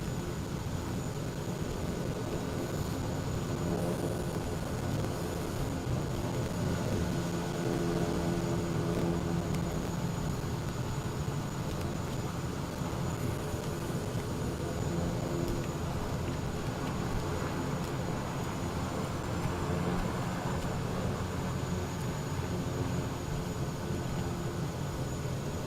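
A steady aircraft engine hum with a constant high whine holds evenly throughout while taxiing in Microsoft Flight Simulator, no voices over it.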